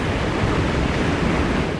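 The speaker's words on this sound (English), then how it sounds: "Right now, Little and Big Cottonwood Creek are roaring" Little and Big Cottonwood Creek running high with snowmelt, a steady broadband roar of rushing water close to the microphone, continuous and loud with no breaks and no voices.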